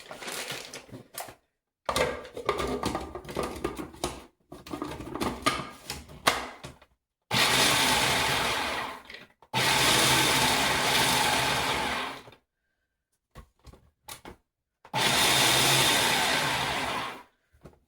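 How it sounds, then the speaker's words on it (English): A food processor chops nuts in repeated bursts: short rattling pulses at first, then several longer steady whirring runs separated by silences. "Since I got the food processor out, I might as well."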